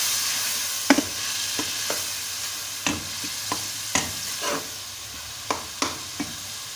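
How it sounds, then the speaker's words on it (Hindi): Steady sizzling of bottle gourd and chilies frying in a pan, with irregular scraping knocks from a spoon stirring, close and fairly loud. "मिर्च भी ऐड कर देंगे, इसको अच्छी तरह से भून लेंगे।"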